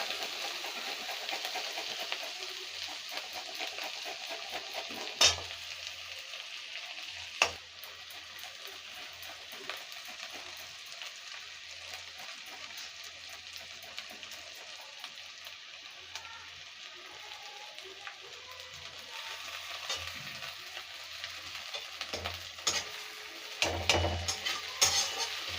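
Garlic, curry leaves and grated ginger fry in oil as chilli jackfruit is cooked, a steady soft sizzle running throughout with a few sharper stirring clatters near the start and a louder burst toward the end.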